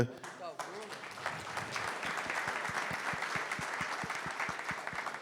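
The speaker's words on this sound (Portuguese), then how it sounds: "uma salva de palmas para Bruno aqui." A room of attendees at an automatic transmission technical congress claps for a participant, with a brief voice at the start, then dense, rhythmic applause with steady beats that carries on to the end.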